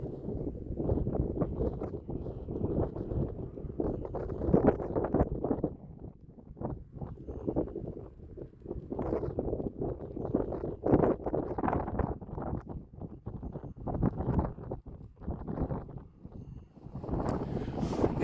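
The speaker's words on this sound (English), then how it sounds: "it's so windy, I know." Strong wind on a hilltop ridge hike buffets the microphone in continuous rough gusts, a loud low rumble rising and falling throughout.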